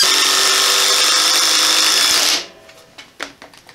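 Power drill driving a 4-inch screw with a new driver bit, a loud steady whine for over two seconds that stops abruptly, followed by a few soft knocks and clatter.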